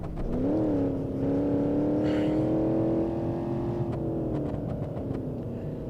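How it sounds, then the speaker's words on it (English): A Civetta Bolide 320 supercar engine in BeamNG.drive climbs steeply in pitch after a downshift, then holds a loud, steady high-rev drone and eases off slightly, with no talk over it. "Lower gear, get the engine in its power band."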